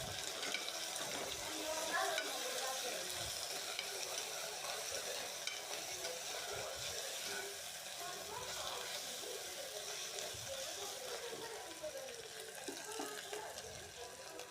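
Ginger and garlic sautéing with salt in a pan for tomato rice, with a dense, continuous close sizzle and faint stirring scrapes running throughout, and no voices.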